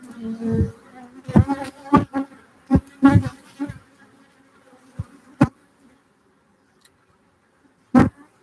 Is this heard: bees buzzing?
yes